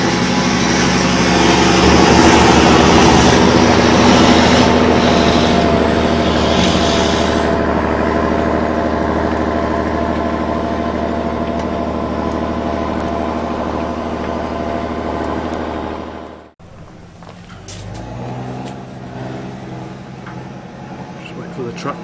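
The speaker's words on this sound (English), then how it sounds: "Wait for the tractor to go." A farm tractor's engine rumbles past outdoors, a broad steady drone that fades away as it heads off, leaving quieter ambient sound.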